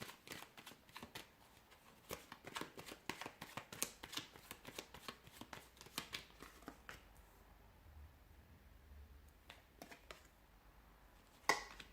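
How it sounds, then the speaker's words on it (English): Tarot cards are shuffled in quick, crisp bursts of riffling clicks, close and fairly quiet. A few rapid flurries are followed by sparser taps and one final louder snap. "give the cards a shuffle"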